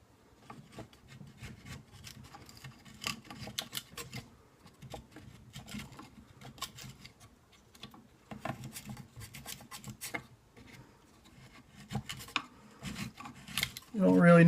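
Wood is pared away by hand to inlet the barrel of a Brown Bess musket stock, giving soft, close scraping and cutting strokes in irregular bursts, faint overall with a louder knock at the end.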